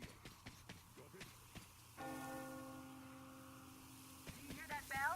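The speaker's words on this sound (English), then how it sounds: "Do you hear that bell?" Church bell tolling in the video game Metro Exodus, a sustained ringing tone with lingering harmonics that swells in the middle and sounds again at the end, preceded by faint clicks and shuffling.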